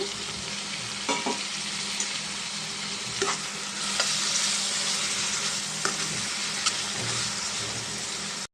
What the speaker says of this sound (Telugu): దీంట్లో ఒక అర స్పూన్ అల్లం వెల్లుల్లి పేస్ట్ వేస్తున్నానండి కొంచెం పచ్చివాసన పోయేదాకా ఫ్రై చేద్దాం